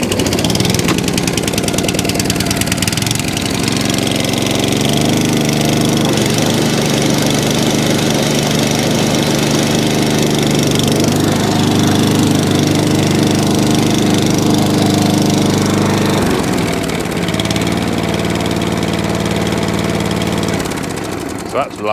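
A petrol engine on an ATCO 14 SE cylinder lawn mower with a Tillotson carburettor runs steadily and loud, a continuous droning idle with a slight shift in pitch partway through, close up throughout.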